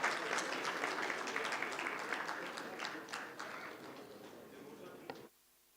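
An audience claps at an Islamic economics and finance conference, a full round of applause lasting about five seconds that gradually thins and then stops abruptly.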